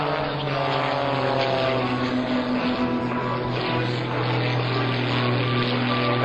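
Two Extra 300 propeller aerobatic airplanes flying in a two-ship team display at an air force base open house, a steady loud propeller drone with engine harmonics throughout.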